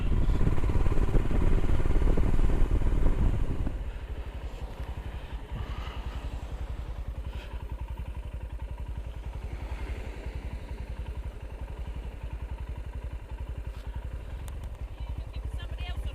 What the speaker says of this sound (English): Somebody else on a motorbike.